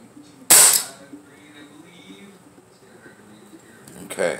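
A single sharp crack from a Crosman 357 Vigilante air pistol firing heavy pellets, close and loud, followed by quiet mechanical clicks and a faint second click at the end.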